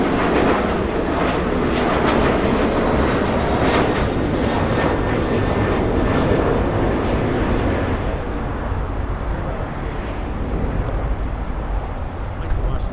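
Boeing 737 airliner at LAX, a steady loud engine roar filling the whole stretch, close and continuous with slight swelling and fading, no talk over it.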